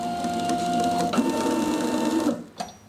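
A label printer hums and whirs steadily as it feeds several labels out during gap calibration, the mechanical drone stopping abruptly near the end with a brief clack afterward.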